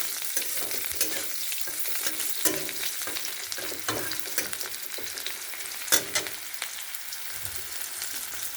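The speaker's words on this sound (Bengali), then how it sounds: "আগে পেঁয়াজ কুচিটা একটু নেড়ে নেবো।" Chopped onions sizzle and fry in a pan for cauliflower curry in a village kitchen, with a spoon scraping and stirring in irregular close clinks over the steady crackle.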